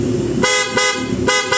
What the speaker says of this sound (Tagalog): So ayan, yung loud horn natin